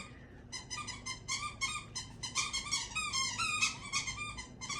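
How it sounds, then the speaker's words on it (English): A dog chewing on a new squeak toy indoors, giving a rapid series of high, piping squeaks in irregular bursts, fairly faint over a low background hum. "right now she decides she wants to chew on her new squeak toy"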